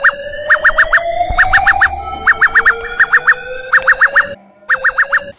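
South Africa's emergency alert system alarm plays loud electronic tones: repeated bursts of four quick warbling beeps over a sustained steady tone, with brief pauses between the groups.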